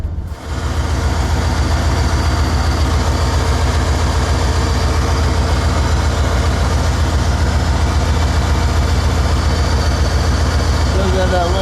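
A 2003 Dodge Ram Van 1500 idles steadily just after an oil pan replacement, a loud, even low engine drone with a faint ticking from the exhaust, continuous and close, with no one speaking.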